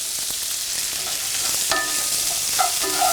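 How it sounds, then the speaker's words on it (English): Onions fry in a pot for duck and oatmeal soup, giving a steady hiss and sizzle with a few scraping stirs partway through and no talking. "I'm just taking the outer bit off, just stirring those onions up."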